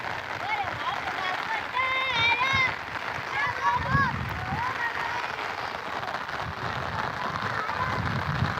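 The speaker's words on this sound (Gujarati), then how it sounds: "વરસાદ આવી ગયો ધમચોકાર" Heavy rain beats down in a constant rushing patter while people talk and call out loosely over it, voices rising and falling above the downpour.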